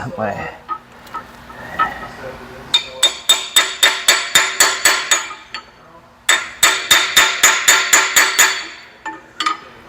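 Two rapid runs of sharp metallic taps from a small hammer, about a dozen each, ringing close as a dipstick plug is hammered into a Mopar truck, with scattered single strikes and a voice speaking between them.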